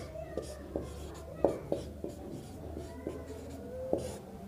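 Pen scratching out an answer in a class 10 maths lesson, short irregular strokes and taps spread across the clip, close and clear over a faint room hum.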